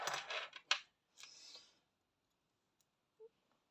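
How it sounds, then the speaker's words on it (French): Metal scissors picked up for cutting embroidery thread give a few sharp close clicks and a brief snip, followed by near silence with one faint tap. "Alors, hop, je vais prendre le ciseau."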